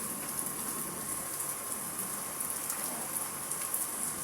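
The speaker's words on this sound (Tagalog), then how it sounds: "hindi naman gaano malakas yung ulan pero patuloy-tuloy pa rin ang bugso ng ulan" Steady, moderate rain falling continuously, with a dense patter of drops on surfaces and no voices.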